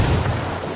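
A frag grenade going off in Ghost Recon Wildlands, a brief, heavy low boom with rumbling decay, loud and close.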